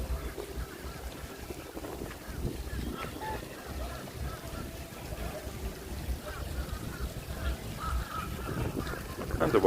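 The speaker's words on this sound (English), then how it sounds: "Got some different kinds of goose." Geese honking among mixed waterfowl in a downtown Orlando park, steady outdoor wash with wind and low rumble, honks faint and intermittent in the background.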